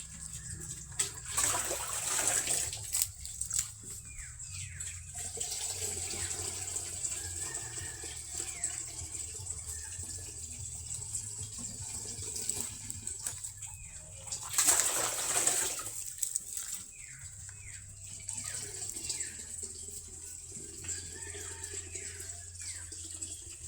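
Tap water running steadily as it is strained through a filter before going to livestock, a continuous splashing flow with brief louder gushes, some faint bird calls in the background.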